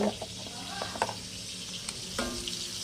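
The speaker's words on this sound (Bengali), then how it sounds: "এই পাশে দেখো চিংড়ি মাছটা ভাজছি" Prawns sizzle in a frying pan with a soft, steady crackle, and a few sharp clinks and scrapes from stirring come through at close range.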